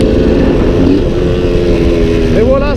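A Suzuki 125 TSR off-road motorcycle engine revs loudly and close on a mountain dirt track, its pitch rising sharply near the end as the throttle opens and the rear wheel lifts.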